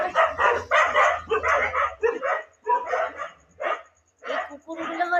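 Several dogs bark in a busy run of yips and woofs over about five seconds, with short pauses between bursts, close by and fairly loud.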